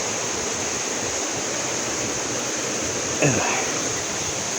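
Small waterfall in a forest, a steady broadband rush of falling water throughout, close and even, with a brief rising whistle-like sound near the end and no speech.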